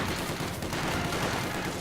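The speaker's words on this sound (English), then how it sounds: "Striking with flamethrowers and light machine guns." Light machine guns fire in a Company of Heroes 2 battle, a dense, continuous crackle of rapid gunfire that sounds fairly distant and stays even for the whole short burst.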